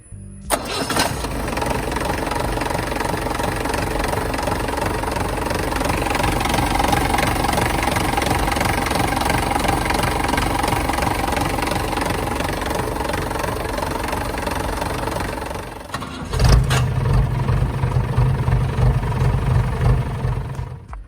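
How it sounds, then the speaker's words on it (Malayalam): A 1992 Mahindra CJ 500 DI jeep diesel engine cranks and catches at once, then settles into a loud, steady clattering idle close by, with a brief dip before the rhythm resumes. "സ്റ്റാർട്ടിങ് ടൈമിലൊക്കെ പക്ക ഒരു ഒറ്റ ക്രാങ്കിൽ കിട്ടുന്ന ഒരു എൻജിൻ"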